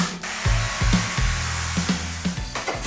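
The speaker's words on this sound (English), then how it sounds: "Maybe time to get out the power tools." A power tool grinds away siliconed material from a house wall down to the brick, whirring loudly in a series of short, repeated bursts at close range.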